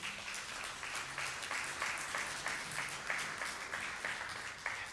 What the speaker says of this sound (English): You should give yourselves applause for that.